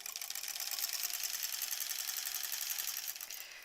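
A sewing machine back-tacking a seam on a stuffed bunny toy, a steady rapid mechanical whir with fine needle ticking, close and continuous, easing off slightly at the very end.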